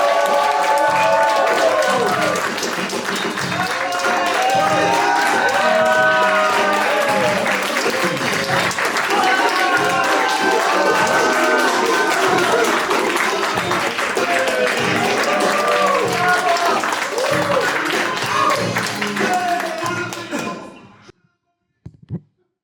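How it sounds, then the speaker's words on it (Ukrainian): A stand-up comedy crowd breaks into loud, sustained applause and cheering as the comedian takes the stage, a thick roar of clapping with shouts and whistles, then cutting off abruptly, followed by a couple of faint knocks. "На цій сцені під ваші бурхливі оплески"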